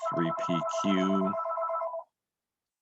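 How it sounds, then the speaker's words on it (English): A telephone ringtone sounds loudly and steadily for about two seconds, with a person talking over the start of it, then cuts off into silence. "Sorry about the phone there."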